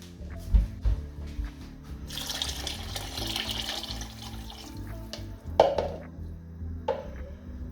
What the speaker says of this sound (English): I'm gonna add 1 more liter of water